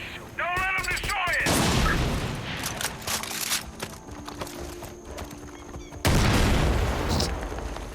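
Far Cry 5 gameplay: a horse whinnies and hooves clatter, then gunfire bursts and a loud explosive boom hits near the end, all amid busy game noise.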